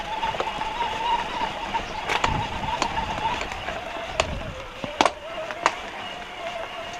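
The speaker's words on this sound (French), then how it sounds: "Allez, ça y est, on a allumé les moteurs." Electric mountain bike motors whine in a steady high tone on a mountain trail in the Pyrénées, with rattles, clicks and bumps from the bikes over rough ground.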